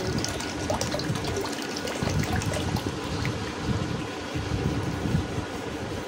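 Water, including green coconut water, is poured and mixed while making coconut pudding, giving a steady, close trickling and splashing wash that runs without a break and without voices.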